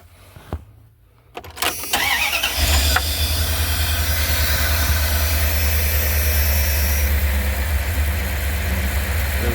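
Dodge B2500 van engine cranking and catching after a couple of brief clicks, then settling into a steady, loud, close idle with a deep low rumble after a recent rear main seal and oil pan gasket repair.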